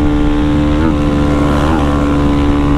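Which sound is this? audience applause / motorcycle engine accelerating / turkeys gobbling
motorcycle engine accelerating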